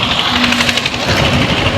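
A running motorcycle engine in Sirsa with a steady low putter and rough, throbbing vibration, close and fairly loud.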